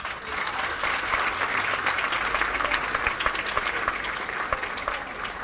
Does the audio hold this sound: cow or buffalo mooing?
no